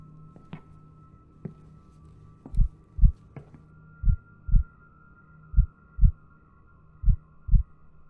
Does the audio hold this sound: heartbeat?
yes